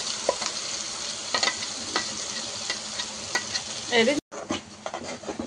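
Ground green chili and onion chutney fries in a pan, giving a constant close sizzle. Scattered scraping strokes from stirring sit on top, and the sound cuts out briefly near the end before resuming.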